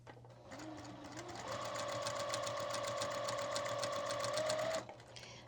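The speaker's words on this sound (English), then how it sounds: "chain sewing just makes everything go so quickly" A sewing machine chain-sews quilt pieces in one continuous run of about four seconds, its motor whine climbing to a steady pitch with a rapid even needle rattle before stopping.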